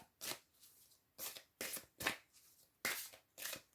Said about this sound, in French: Allez, 3 cartes, s'il vous plaît